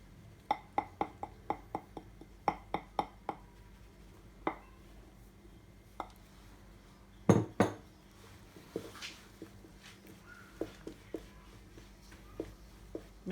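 Hokkaido milk loaf dough being mixed by hand in a bowl, with sharp scattered clinks and taps of a utensil against the bowl in quick clusters, then sparser knocks, all close and fairly quiet.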